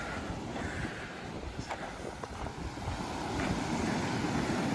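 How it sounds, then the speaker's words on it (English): Big waves roll and break onto an Italian beach of sand edged with rocks, a steady broadband wash of surf with gusty wind on the microphone, growing slightly louder toward the end. "Big waves."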